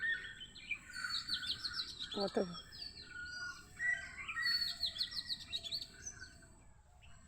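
Several birds chirp and trill in quick bursts on a rain-soaked morning, clear and fairly close, with a brief lower call in the middle and a single spoken word.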